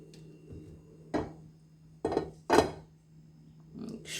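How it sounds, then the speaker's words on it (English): Pancake pan being oiled: a few irregular metallic clinks and knocks of utensil against the frying pan, close and moderately loud, with a low steady hum underneath. "We oil our pan"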